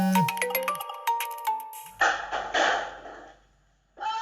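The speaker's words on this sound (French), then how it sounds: "le serveur envoie une alerte sur le téléphone des soignants." A caregivers' phone sounds an alert notification: a short run of bright chime-like tones and descending ding notes, followed by a burst of noisy electronic sound that fades out, then a new onset at the end.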